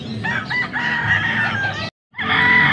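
A rooster crows loudly and close by at a market in Angeles, Pampanga, cut by a brief silent gap before the crowing resumes.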